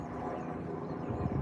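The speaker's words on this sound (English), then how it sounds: "I hope we've got an helicopter up there" A helicopter passes overhead outdoors, heard as a steady, dense low rumble that fills the whole short moment without any voices.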